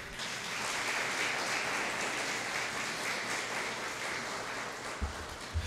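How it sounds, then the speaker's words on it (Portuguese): A church congregation applauds during a sermon on the heroes of the faith, a steady dense wash of clapping that holds loud and even for several seconds without a break. "Aplauda o Senhor, por favor."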